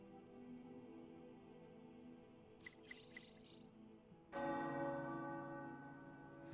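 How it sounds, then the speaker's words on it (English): Tower bells ring in the game Marvel's Midnight Suns. There is a faint ambient hum, then a brief cluster of high clinking strikes, and then a fuller, resonant bell peal that sustains and slowly fades, all at low volume. "The tower bells are ringing."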